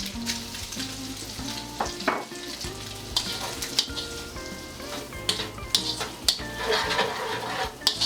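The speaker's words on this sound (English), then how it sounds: "And I'm gonna come in now with my minced garlic and ginger." Minced garlic and ginger sizzle loudly in a hot pan for a Chinese-style pepper steak, with repeated clattering stir strokes and utensil knocks over a continuous frying hiss, and no voice.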